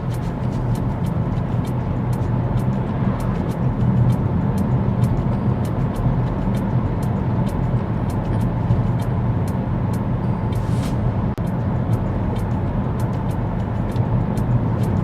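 Steady interior road noise of a car cruising along a straight road, a constant low rumble and tyre hum with faint regular ticking, close and even throughout, no speech.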